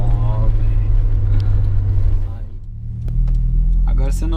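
A Chevrolet Tracker 2.0 16V turbo 4x4 running an FT500 Lite engine controller idles with a smooth, steady low drone, close up. People talk loudly over it throughout.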